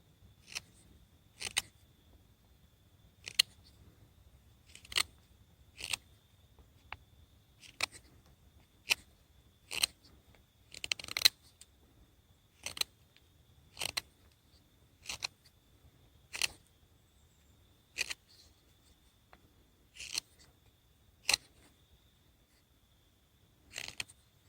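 A knife trims pithy wood for a bushcraft bow drill set, giving sharp, dry scraping clicks at a steady pace of roughly one per second, close by in a quiet setting.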